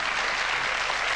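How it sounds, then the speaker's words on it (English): A television studio audience claps in a brief, dense, even burst of applause that holds steady throughout. "you obviously know how to milk an audience's applause"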